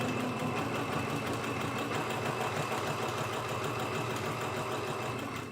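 A sewing machine stitches a quilt piece, its motor running in a steady, unbroken whir from start to finish at close range.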